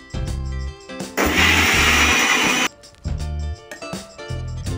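A kitchen blender grinds a paste of boiled spinach, peas, tomato, ginger, chilli, coriander and spices in loud bursts, one long whir between shorter pulses, with no talking.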